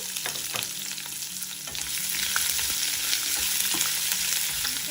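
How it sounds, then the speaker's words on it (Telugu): Onion pieces sizzle in hot oil with dried red chillies and cumin for a curry leaves chutney, a dense continuous frying hiss with intermittent stirring scrapes, close and fairly loud. "ఎండుమిరపకాయలు కూడా వేగాక ఉల్లిపాయ ముక్కలు వేసి వేయించుకోవాలి."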